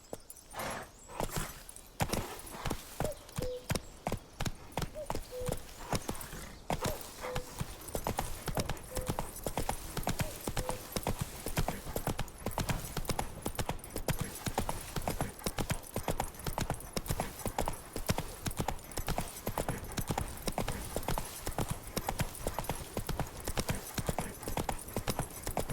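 Roach, Geralt's horse in The Witcher 3, clip-clops steadily through a steady run of close, even hoof beats that continue without a break.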